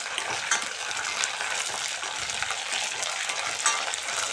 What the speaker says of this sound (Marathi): कांदा आपला भाजत आलेला आहे लालसर झालेला आहे त्याच्यामध्ये आता मी आलं लसूणची पेस्ट घातलेली आहे